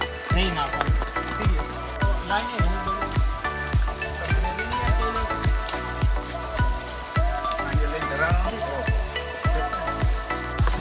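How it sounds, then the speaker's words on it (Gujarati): Steady rain patters over the whole stretch at Matheran hill station, with frequent sharp drip impacts, while people talk loudly nearby and background music plays throughout. "ફૂલ વરસાદ આવી ગયો છે"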